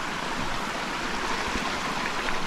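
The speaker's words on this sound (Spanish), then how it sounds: "Mira, esto es un río." A river flowing through its bed at the ausoles in El Salvador, a steady close rushing of water with no talk over it.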